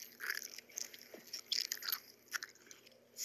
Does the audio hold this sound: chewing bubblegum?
yes